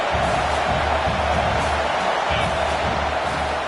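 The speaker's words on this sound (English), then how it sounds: "here comes the noise. This crowd is trying to inspire this defense to make a big red zone stop." Stadium crowd at a Texas A&M football game roaring steadily and loud throughout, a dense sustained wall of cheering and noise with no break.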